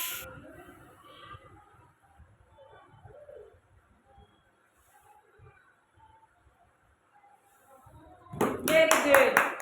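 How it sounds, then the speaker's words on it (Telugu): Anganwadi children clap their hands together in a loud, lively burst near the end, after a long quiet stretch of faint background voices and soft bird cooing. "అయితే క్లాప్స్ కొట్టండి అమ్మా. గట్టిగా కొట్టండి."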